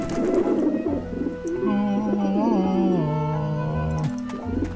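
Pigeons coo on a rooftop in the Grim Fandango video game, a soft, close, repeated warbling call over a low musical drone, with no talking over it.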